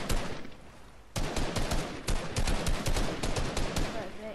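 Rapid bursts of video-game gunfire crackle through a fast firefight, loud and dense after a quieter first second, with a voice briefly audible beneath the shots.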